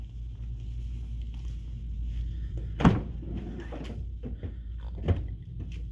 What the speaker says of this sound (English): I'm going to go ahead and open up the back doors